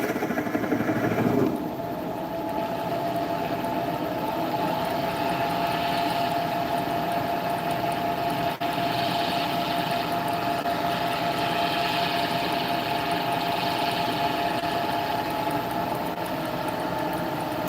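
A findbuytool.com wood lathe runs at low speed, giving a steady motor hum with a constant tone. It continues unbroken and fairly close, after a brief louder start, with no talking.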